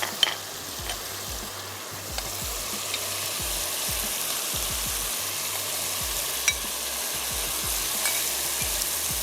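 Boiled boneless beef tipped into biryani masala spiced with dried plums, nutmeg and mace, sizzling and frying steadily in a pan with repeated stirring scrapes, close and alone without talk.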